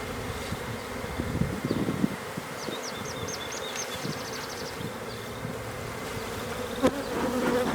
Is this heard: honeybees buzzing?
yes